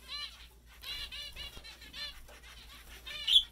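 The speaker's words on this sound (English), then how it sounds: "here's my flight of zebra finches" Small fawn zebra finches in an indoor aviary flight give repeated high, nasal chirps and beeps, several birds calling close by with brief wing flutters.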